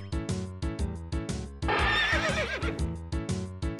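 A horse neighs and whinnies in a horror video game, a long wavering call rising over a steady game music loop, loud and close, with no talk.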